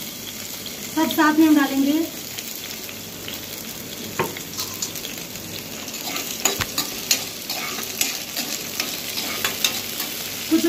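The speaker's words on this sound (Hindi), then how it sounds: "तेल गर्म हो चुका है तो डाल देंगे लहसुन मिर्चा" Garlic and chilies hit hot refined oil and fry with a steady hiss and sputtering crackle while a spoon stirs them, a brief voice speaking early over the sizzle.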